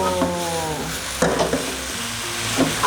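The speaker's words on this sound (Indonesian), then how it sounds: "Mesti kita kayak goreng. Kayak gini goreng gitu." Lamb noodles being stir-fried and caramelized in a hot pan, with steady close sizzling and frying hiss alongside scraping stirring strokes and light pan clatter.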